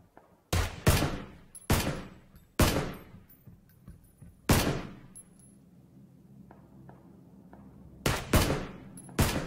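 Gunfire in the video game PUBG: a handful of sharp, loud single shots spaced a second or so apart, each trailing a short echo, then a quiet stretch before a final pair of quick shots.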